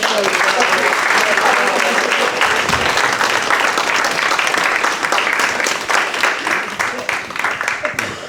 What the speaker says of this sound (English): please give a round of applause for Colin Valentine